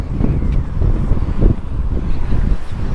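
Gusty wind buffets the microphone on a cold, rainy early-morning street, a dense low rumble that surges and eases continuously for a few seconds, with faint traffic mixed in.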